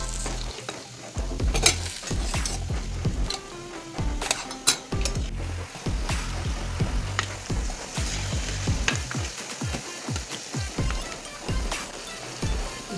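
Sweet wheat-flour vadas are stirred into sugar syrup in a pot, giving close, irregular scraping knocks and clinks over a soft bubbling sizzle, with no talk.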